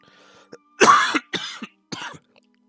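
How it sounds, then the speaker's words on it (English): A person coughs in several hard, harsh bursts, close and fairly loud, separated by short gaps. "I'm having a hard time not coughing"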